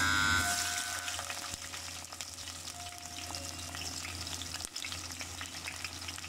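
Chopped onions dropped into hot oil for a minced-meat, potato and peas dish: a loud burst of frying at the start settling into a steady, busy sizzle with faint stirring clinks.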